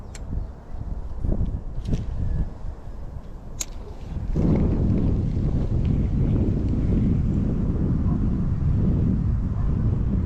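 Strong wind blowing at a pond, rumbling and buffeting against the microphone, rising to a louder steady roar partway through, with no talk.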